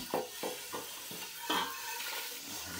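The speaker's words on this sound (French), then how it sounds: "J'enlève les impuretés de la casserole." A saucepan is scrubbed and rinsed clean of impurities after blanching veal for a blanquette, giving about six rhythmic scraping strokes with a brief louder rush of water midway, close and alone.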